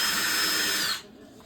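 A cordless power drill runs steadily at high speed, driving a screw while a bifold door is being installed, then stops abruptly, leaving a quiet room.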